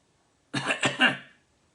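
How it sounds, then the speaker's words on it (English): A single close, throaty cough in two or three quick bursts, followed by silence. "Cough."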